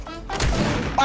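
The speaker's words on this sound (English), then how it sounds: "Oh, I'm being shot! I got sniped!" A sniper shot in the Fortnite video game hits with a loud, close boom and a short rumbling tail, lasting about a second.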